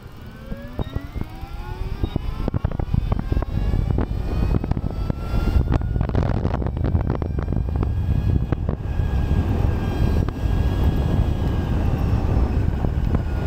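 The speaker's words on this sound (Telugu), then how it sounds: "100 వరకు యాక్సలరేట్ చేసి చూద్దాం ఎంత ఫాస్ట్గా అవుతుందో." Ultraviolette F77 Superstreet electric motorcycle accelerating hard to 100: a rising electric-motor whine climbs steadily in pitch over strong wind and road noise, close and loud, with no talking.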